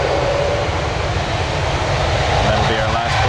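An airplane at Toronto Pearson airport produces a loud, steady jet roar that swells slightly near the end, filling the whole moment without a break.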